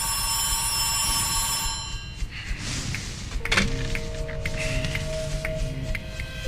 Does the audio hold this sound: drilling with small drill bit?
no